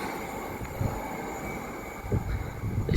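Train 801203 passes through Grantham station on the East Coast Main Line, a fairly quiet continuous rumble with a few brief thumps and bumps rising near the end.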